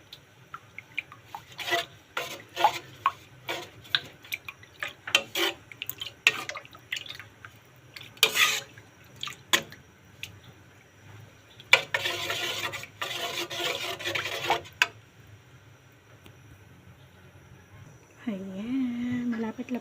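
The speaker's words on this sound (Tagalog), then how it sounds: "Ayan, haluin natin. Haluin natin siya." Tuna and eggplant get stirred in a pan, with repeated scraping and clinking strokes in uneven bursts and a longer, denser stretch of stirring midway. A voice talks briefly near the end.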